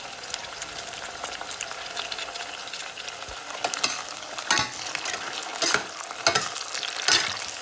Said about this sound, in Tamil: தக்காளி எல்லாம் சேர்த்து நல்லா கிளறி விடுவோம்.